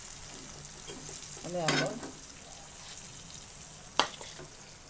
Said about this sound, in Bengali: টমেটোগুলো একটু লবণ দিয়ে ভেজে নিচ্ছি।